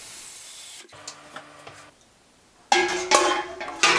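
Water runs into a cooking pot for corn on the cob, starting with a quiet trickle and faint clinks, then surging into a loud, splashy gush near the end.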